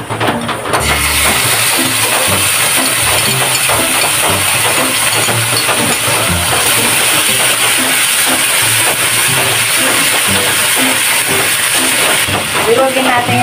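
Sardines go into a pan for coconut-milk banana blossom stew, answered by a loud, close, unbroken hiss and sizzle that continues steadily for the whole stretch, with faint clatter underneath.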